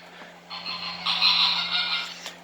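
Plush flamingo toy's sound box plays a greater flamingo call, a short nasal honking squawk lasting about two seconds, fairly faint over a steady low electrical hum.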